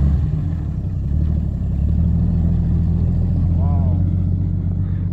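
A 1951 Chevrolet coupe's deep, rumbling engine idles steadily with a throaty glasspack exhaust burble, close by; a faint voice is briefly heard over it.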